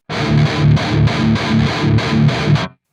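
Palm-muted distorted guitar chugging in even rhythmic bursts via cab 2 of the Neural DSP Archetype Gojira plugin, loud and close with no other sound, stopping sharply.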